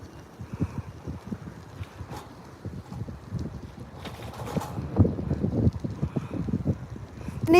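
Strong winter wind buffeting a microphone outdoors on a nature drive home, a continuous low rumbling roar with gusty swells growing louder toward the end.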